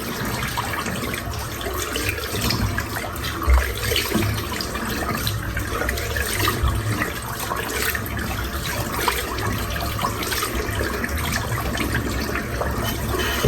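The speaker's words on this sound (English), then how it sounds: "Rinse off with hot." Water runs steadily from a tap during a rinse after a head shave, a continuous close splashing rush lasting throughout with no talk.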